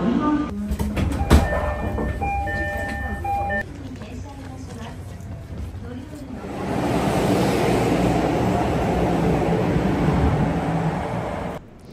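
Hello Kitty Shinkansen bullet train, a close, broad rushing roar of the moving train swelling up midway and holding steady, with announcements and a voice heard during the quieter opening.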